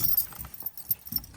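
Keys jangle faintly near an old car, a 1973 Citroen DS Super 5, in a few soft metallic rattling bursts over quiet background with no speech.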